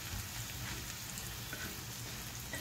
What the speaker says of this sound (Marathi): आता हे छान हलवून घ्यायचंय, म्हणजे त्याचा कच्चटपणा जो आहे तो भाजल्यावर निघून जातो तेलात.